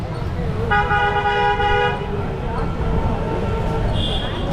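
A car horn honks for about a second amid a busy traffic din in Varanasi, India, followed by engine rumble and a brief higher tone later.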